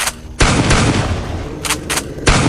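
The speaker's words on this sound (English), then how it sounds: "Both brothers fire simultaneously." Gunfire rings out in loud, close bursts as two guns fire at once, cracking sharply with short gaps between volleys.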